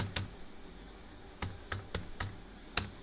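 Keys on a computer keyboard clack in a short series of sharp, separate taps at an uneven pace, up close with a steady background hiss.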